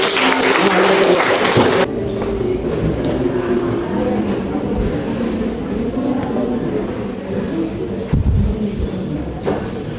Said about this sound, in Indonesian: Oke, kita beri tepuk tangan untuk